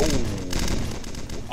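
Rapid mounted machine gun fire from the Red Crucible Reloaded shooter, aimed at an armored vehicle, rattles loud and continuous in a dense burst, with an excited player's voice over it.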